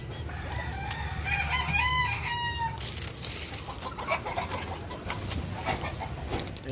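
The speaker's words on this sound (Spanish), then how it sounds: "Este es un gallo pluma cambiado." A pluma cambiado gamecock crows loudly nearby in one drawn-out call, followed by clucking and rustling from other fowl close at hand.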